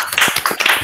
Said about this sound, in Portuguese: uma salva de palmas aí para o nosso palestrante aí